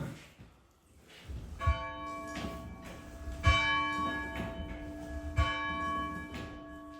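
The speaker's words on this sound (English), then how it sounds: "one thing I forgot to do as we came in was ring that bell" A large church tower bell in a circa-1912 Gothic Revival church tolls three times at slow, even intervals, each strike ringing out with long overtones that hang and fade between hits.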